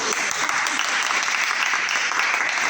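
Audience applause in Bursa honoring a teacher and her family; dense, even clapping from many hands, loud and continuous throughout the short stretch.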